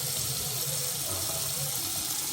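Hot water gushing steadily from a household tap into a sink, a loud continuous splashing hiss close by with no break, while a voice speaks briefly over it.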